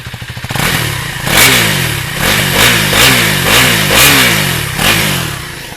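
Revving of a Husqvarna Svartpilen 401 motorcycle through its underbelly exhaust: the idle gives way to a series of quick, loud throttle blips that rise and fall in pitch, close up and with no talking.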